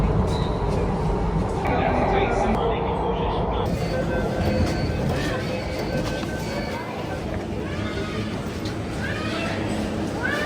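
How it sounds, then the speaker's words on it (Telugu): A Delhi metro train pulls into platform 2 of a busy station, its steady rumble and broadband roar joined by rising electric motor whines toward the end, with crowd chatter and voices throughout. "ప్లాట్ఫామ్ నెంబర్ 2లో అయితే మెట్రో వచ్చింది."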